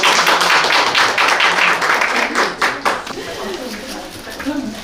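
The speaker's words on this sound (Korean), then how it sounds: "큰 박수로 맞이해 주시기 바랍니다" Audience applause welcoming panelists at a forum, a dense burst of clapping that thins out after a few seconds, with talk over the tail end.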